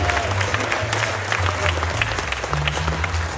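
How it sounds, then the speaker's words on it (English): A theatre crowd applauds throughout a Sun Records tribute concert in Croydon, dense continuous clapping over a low hum from the stage. "Give yourselves a round of applause."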